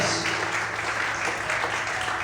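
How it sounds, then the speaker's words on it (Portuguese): A church congregation applauding loudly and steadily, a dense continuous wash of clapping with no pauses. "Aplauda o Senhor bem forte."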